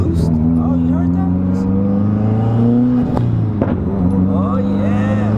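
A Mitsubishi Evo X with a turbo surge problem revs under boost, its engine drone steady and loud, with brief sharp bursts near the middle of the clip; a person talks over it.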